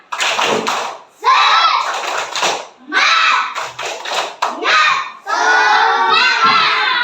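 Third-grade schoolchildren in a classroom shouting a rhythmic spirit clap chant together, loud bursts of group voices with short pauses between phrases, close to the listener.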